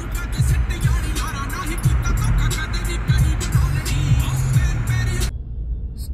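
Car driving through heavy school-time city traffic, a loud steady engine and road rumble from inside the vehicle with repeated thumps, fading out abruptly near the end.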